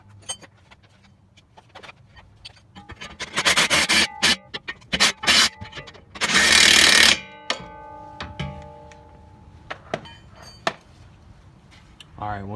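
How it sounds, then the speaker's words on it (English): Metallic clanks, scrapes and rattles of strut bolts being fitted and tightened on a Toyota Camry suspension, loud close bursts with a sustained ratchet or impact-like whirr midway, in a shop setting. "And we'll get our strut bolts lined up and put back in."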